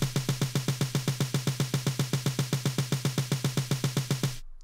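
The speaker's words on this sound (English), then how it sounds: "And let me play these on the snare drum." A snare drum plays a steady, even single-stroke roll of evenly spaced, crisp hits at a brisk tempo, close and dry, stopping abruptly at the end.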